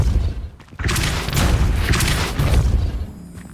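A Depulso spell from the Hogwarts game bursts out as a loud booming blast, a sudden heavy whoosh with rumbling impact that swells and lingers for a few seconds after a brief lull.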